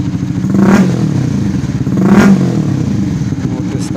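Close, loud revving from a Honda CBR 150 Facelift motorcycle whose modified three-mode exhaust is half open: two sharp throttle blips rise and fall over a steady rumbling idle.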